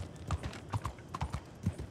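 Hooves of a Mustang horse clip-clopping in Red Dead Online, a steady run of close, distinct hoof strikes in an uneven gait, with no talking.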